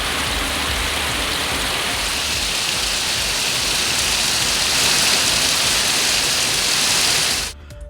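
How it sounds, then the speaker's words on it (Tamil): Heavy rain pours steadily in the Gudalur and Devala area of the Nilgiris district, a dense, loud, unbroken hiss of downpour that cuts off abruptly at the end. "நீலகிரி மாவட்டம் கூடலூர் மற்றும் தேவாலா சுற்றுவட்டார பகுதிகளில் 1 மணி நேரத்திற்கு மேலாக கனமழை கொட்டி தீர்த்தது"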